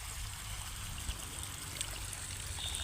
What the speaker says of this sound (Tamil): இன்னும் இந்த மாதிரி நிறைய தண்ணி லீக்கேஜ் ஆகுது